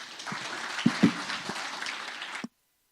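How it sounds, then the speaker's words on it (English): Audience applause at a football awards night, a few sharp close claps over a moderate spread of clapping that stops abruptly, followed by silence. "Let's give him a round of applause."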